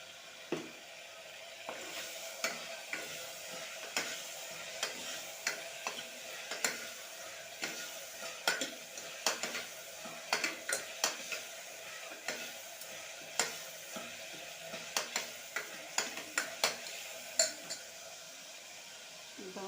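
Curry leaves sizzle in hot oil with a soft, steady crackle, while a spoon stirs and clinks against the pan in frequent, irregular taps, close by and without speech.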